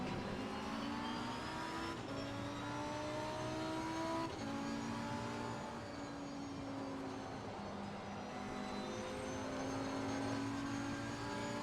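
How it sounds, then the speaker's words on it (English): Race car engine in the Assetto Corsa Competizione racing game, a steady high-pitched drone with rising and falling revs as it shifts through gears, continuous and fairly even. "This game does the engine sound so right."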